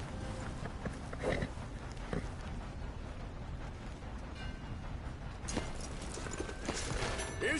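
A horse in Red Dead Redemption 2 with clopping hooves walking on the ground, fairly quiet, with brief snorts or whinny-like bursts breaking in partway through and near the end.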